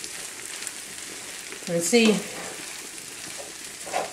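A pan of corn sizzles softly and steadily, with a brief spoken phrase from a man near the middle.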